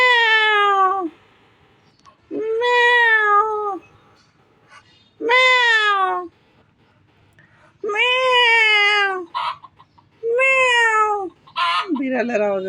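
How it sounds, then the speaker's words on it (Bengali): A cat meows loudly and close up, about six drawn-out, rising-and-falling calls in a row, separated by short quiet gaps, with no other sound between them. "বিড়ালের আওয়াজে তার কানে কিছু আসে যায় না"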